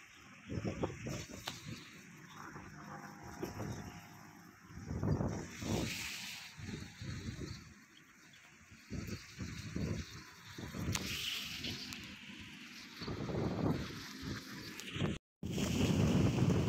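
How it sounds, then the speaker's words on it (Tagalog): Strong gusts of wind buffeting the microphone in loud irregular bursts while jogging outdoors, with a steady background rumble and a sudden brief cutout near the end. "Lakas ng hangin talaga."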